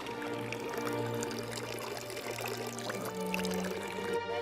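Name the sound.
water flowing from a drinking fountain, Verona, Carlo Scarpa design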